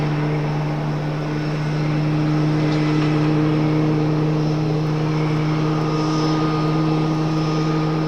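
Aircraft engines roar steadily as a plane departs Raleigh-Durham airport, with strong constant tones over a broad rushing noise that stays loud and even across the whole stretch.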